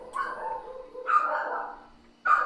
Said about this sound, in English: Sorry, my dogs are freaking out.